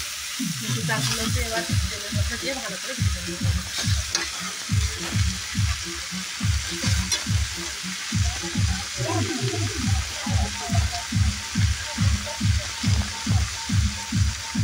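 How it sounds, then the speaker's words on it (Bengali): Chopped fenugreek leaves fry in a little oil in a kadai, a steady close sizzle cut by a brisk, regular rhythm of stirring and scraping strokes throughout. "এবার কুচিয়ে রাখা মেথি শাকগুলোকে ভালোভাবে একটু ভেজে নিতে হবে"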